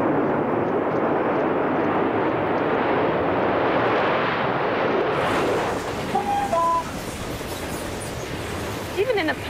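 Steady loud rushing rumble of a high-speed passenger train running at 125 miles per hour, with brief faint tones and a soft voice partway through.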